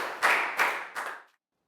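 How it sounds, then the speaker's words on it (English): A classroom of children claps in a short round of applause, three quick bursts of hand claps close by, then the room falls silent. "High five and a big round of applause for Prel, please, guys."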